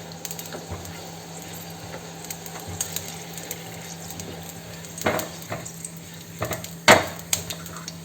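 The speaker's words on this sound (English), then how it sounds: "when you're frying the chilies you make a slit" Slit green chilies fry in hot oil with a soft, continuous sizzle, close by, broken by occasional scrapes and clinks of a utensil against the pan and a few sharper pops.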